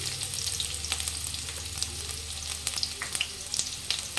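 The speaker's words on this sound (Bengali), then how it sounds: "তেল গরম হয়ে গেছে, পেঁয়াজ কুচি দিয়ে দিলাম" Chopped onion hits hot oil in a kadai and fries with a steady, close sizzle, with sharp crackles and pops scattered on top and a low hum underneath.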